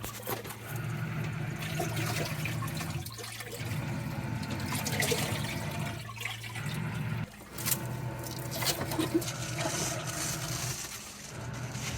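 A caravan washing machine runs a spin cycle, a steady droning hum with a cyclic low rumble and sloshing water texture that briefly dips and restarts in pulses, close and continuous with no talking.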